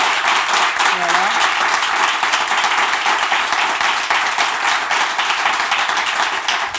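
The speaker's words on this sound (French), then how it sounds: "On peut s'applaudir très fort." Loud, dense applause from a church congregation, filling the whole stretch steadily and close, with a brief voice rising under the clapping near the start.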